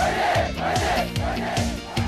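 Massed shouting from a crowd of soldiers on a Korean military training ground, a loud, sustained unison battle cry that swells and repeats in several bursts over a couple of seconds.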